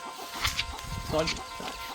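Chickens cluck in short, uneven bursts close by on a farm where ducks, chickens and pigs are raised, the clucks sounding alone against a low outdoor background.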